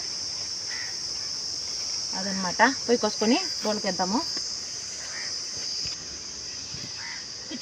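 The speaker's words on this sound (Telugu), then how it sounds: "చల్లగా ఉన్నప్పుడు ఆ పురుగుల శబ్దం అనేది వస్తూ ఉంటుంది" Insects chirp steadily in a farm field during cool, rainy weather, a continuous high shrill drone lasting throughout, while someone talks briefly over it in the middle.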